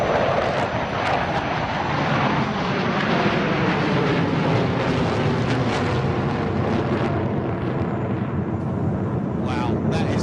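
Military jets such as the Su-30, Dassault Rafale, F-16 and Mirage 2000 display at the Dubai Air Show 2017, their engines a continuous loud roar and rumble rising as they power up, with crowd noise and voices mixed in.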